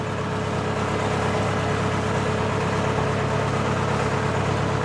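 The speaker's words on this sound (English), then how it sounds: "Smoky engine." A smoky engine on a sailing catamaran runs steadily as the boat heads into a marina, a constant low droning hum at a close, even level with no speech over it.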